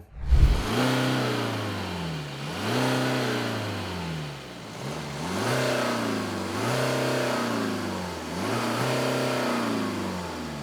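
A BMW 320d diesel car engine revs repeatedly, rising and falling in pitch in several bursts, with a deep diesel rumble up close and no voices.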